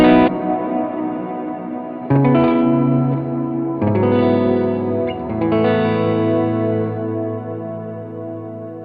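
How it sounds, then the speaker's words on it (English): Electric guitar run through an M1 effects pedal with lots of reverb, several strummed chords ringing into one another with a dense, echoing wash, loud and with no talking. "check out the amount of reverb you can get with just this M1."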